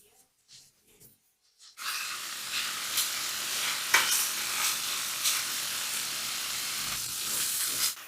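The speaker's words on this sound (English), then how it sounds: "Let's mix it and let it cook until the leek and onion are soft" Chopped onion and leek hit hot oil in a pan and sizzle loudly while being stirred. The hiss starts abruptly after a few quiet moments and stays dense, with scraping stir sounds.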